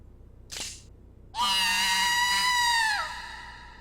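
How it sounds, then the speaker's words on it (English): A single high, shrill scream from the horror game Chain Letters, loud and sustained for about two seconds before trailing off, preceded by a brief breathy gasp. "That's a very Japanese scream."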